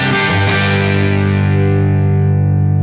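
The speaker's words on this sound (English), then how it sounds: "Now let's take a look at the Marshall. This is the JM45." Electric guitar through a Marshall JM45 amplifier, a single loud, heavily distorted chord struck and left to sustain and slowly decay, bass-heavy and alone.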